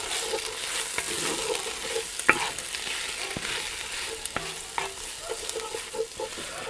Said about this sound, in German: Jetzt vermischen wir alles schön miteinander.